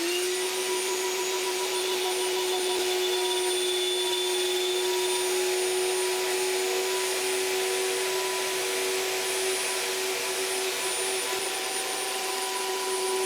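A router used for drilling through a plate, running as a steady, loud, high-pitched whine with a constant tone, no talk over it.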